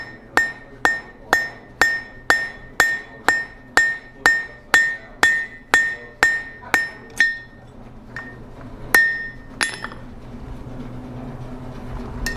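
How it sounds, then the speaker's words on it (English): A hammer flattens hot steel on an anvil: a rapid, even series of about fifteen bright, ringing blows close by, then a pause and a few scattered strikes. "We're going to bring it over here to the anvil, and all I'm going to do is flatten out a section of this."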